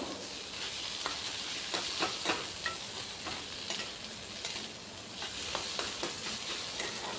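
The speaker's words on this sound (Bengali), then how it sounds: "সব গুঁড়া মশলা দিয়েও এখন এটাকে ভালো করে ভাজা ভাজা করে নেব।" Spice filling for stuffed pointed gourd fries in a pan with ground coriander and red chilli powder, giving a steady close sizzle broken by repeated scraping strokes of a spatula stirring the mixture, with no talking.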